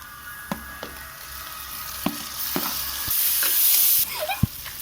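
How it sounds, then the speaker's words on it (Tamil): Onion masala with tomato sautéing in a pan for Chettinad chicken curry: a soft, steady sizzle under repeated spoon scrapes and taps, with a short louder sputter near the end. "நல்லா வதங்கட்டும். இப்போ தக்காளி போட்டுக்கலாம்."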